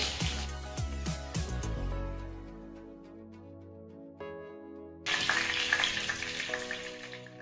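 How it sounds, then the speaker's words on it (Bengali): Pointed gourd frying in hot oil, with a soft, steady sizzle that swells in the last few seconds after a quiet stretch of background music. "এদিকে দেখুন পটলগুলো ভালো করে ভাজা হয়ে গেছে। এবারে পটলগুলো তেল থেকে তুলে নিচ্ছি।"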